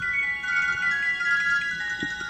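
A cellphone ringtone plays a steady, bright electronic melody at moderate volume, sustained tones repeating without pause and with no talk over it.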